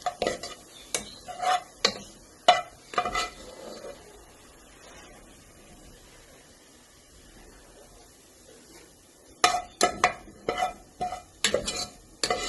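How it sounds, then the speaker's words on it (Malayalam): Two onions fry until golden while a spoon stirs them in a pan, producing bursts of sharp scraping and clacking strokes that are separated by a long stretch of quiet low sizzling. "2 സവാള ഉണ്ട്. അത് നന്നായി മൂക്കട്ടെ"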